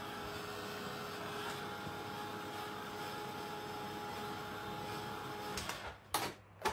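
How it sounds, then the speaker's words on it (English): Heat tool blowing hot air over shrink plastic on an art journal page, a steady whooshing fan drone held for several seconds before clicking off with brief rustles. "I'm moving my heat tool very well to make sure that it is not going to melt my"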